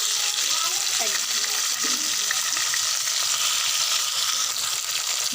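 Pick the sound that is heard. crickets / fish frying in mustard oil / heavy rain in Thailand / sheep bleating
fish frying in mustard oil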